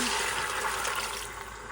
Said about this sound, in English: I'm gonna add this water here.